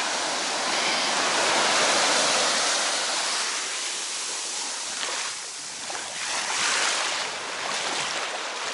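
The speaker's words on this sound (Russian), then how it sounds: "И волны." Sea waves wash onto a beach on Phuket, a steady close hiss of surf and breaking water filling the whole stretch without any talk.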